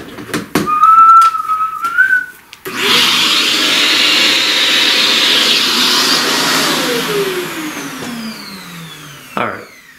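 A vacuum cleaner starts up and runs as a loud, steady whirring roar, its pitch sliding down as it winds off near the end, after some short whistling sounds.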